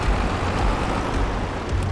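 A small Wonbo tractor engine runs in Farming Simulator, a steady low rumbling drone that stays loud and close without a break, no voices over it.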